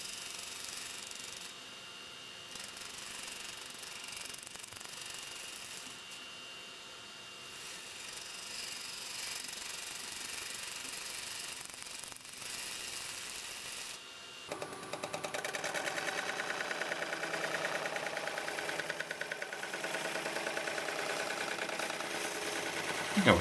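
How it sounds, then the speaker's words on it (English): A woodturning lathe spins a large, very dry pine segmented ring at roughly 500 to 600 RPM while a tool shear-scrapes its surface, making a steady mechanical whir and rasp that turns brighter and louder partway through. "Doing some more shear scraping here."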